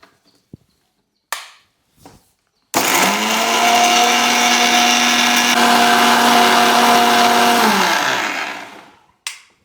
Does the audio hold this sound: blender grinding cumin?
yes